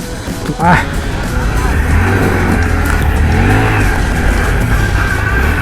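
A modified Honda Grom motorcycle engine revs and pulls away up close, its pitch climbing and falling over a rush of wind noise.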